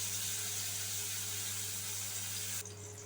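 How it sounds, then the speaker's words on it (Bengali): Boiled, salted cauliflower pieces frying lightly in a pan give a continuous close sizzle with a low steady hum beneath, the hiss dropping away abruptly near the end. "জাস্ট হালকা আমি ভেজে নেবো যাতে ভেঙে না যায় ফুলকপিগুলো"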